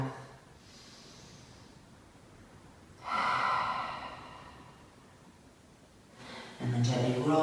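Slow, even breaths during yoga relaxation, with two clear audible exhales spaced a few seconds apart over a quiet room, near and soft.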